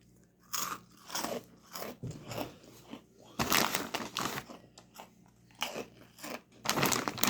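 Snack Factory POP'UMS baked white cheddar pretzel snacks being bitten and chewed up close, a series of loud, dry, rhythmic crunches repeating throughout.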